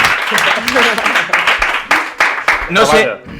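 A studio audience at a Christmas television special claps in bursts, the applause rising and falling beneath a loud voice talking over it.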